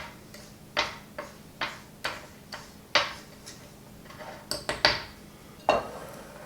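A small stirring rod clinks against a bowl as sugar and cinnamon are mixed, giving about a dozen short, close ticking taps at an uneven pace, with no talk.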